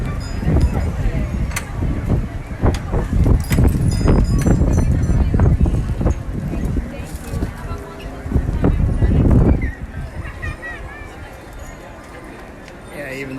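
Holiday carriage horses braided with green and red ribbon clip-clop along with jingling bells, a busy, loud rhythmic clatter over wind noise and nearby chatter that thins out toward the end.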